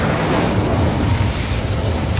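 The Incendio fire spell in the Hogwarts Legacy video game goes off as a loud, close, roaring burst of flame that fills the whole moment.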